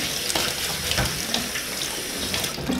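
Tap water runs steadily into a sink while red lentils are rinsed, a loud continuous splashing rush heard close up with no talking.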